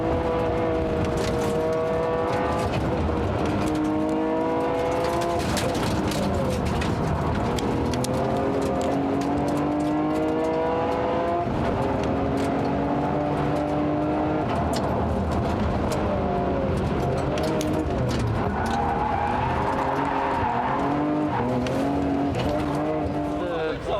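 Nissan GT-R rally car racing on gravel roads at Targa New Zealand, heard from inside. The engine revs climb and drop through repeated gear changes, loud and continuous, with stones rattling and people talking over it.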